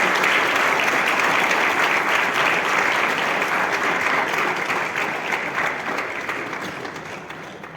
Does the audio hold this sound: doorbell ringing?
no